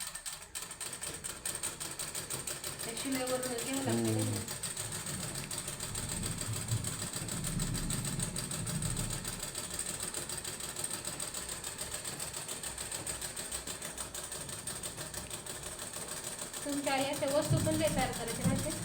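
A household sewing machine runs with a steady mechanical whir and clatter, close and moderately loud. Someone talks over it near the start and again at the end.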